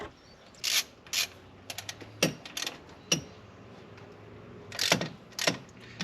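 Ratchet tightening bolts on a water pump during a car repair: short clusters of clicking pawl strokes come in bursts with pauses between, close and fairly clear in a quiet workshop.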